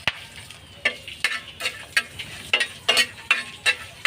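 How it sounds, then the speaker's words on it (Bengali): Chillies fry in a little oil, with repeated sizzling bursts and stirring scrapes in an irregular rhythm, close and moderately loud, with no voices. "হালকা একটু তেল দিয়ে মরিচটি ভাজবো"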